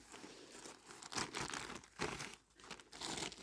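Plastic bag crinkling and rustling in irregular bursts, close and fairly quiet, with brief pauses between handlings.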